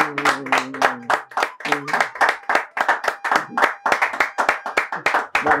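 Hands clapping in a rapid, irregular run of sharp claps in a television game show setting, with a voice humming or chanting over the first part.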